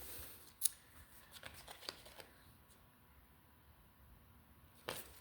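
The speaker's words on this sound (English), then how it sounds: "right as I started to shuffle for you" Tarot cards are shuffled by hand in a quiet room, soft, faint papery riffles and taps arriving in a few short bursts with pauses between.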